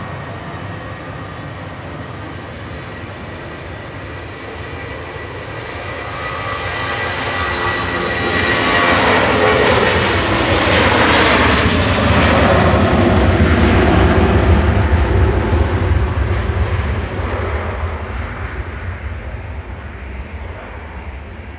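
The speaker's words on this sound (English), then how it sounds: "Lufthansa back to Frankfurt now with flight 941." A Lufthansa jet departing Manchester Airport for Frankfurt builds into a loud, broad engine roar that peaks in the middle and slowly fades as it climbs away.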